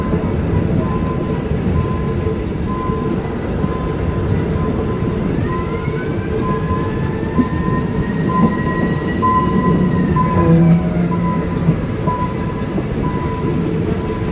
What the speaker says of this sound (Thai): เดี๋ยวจะเข้าจอดที่7ประเมียนนะครับ